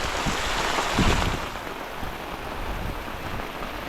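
Heavy rain falls steadily on a Konkan village, a broad close hiss that swells briefly near the start and then holds even.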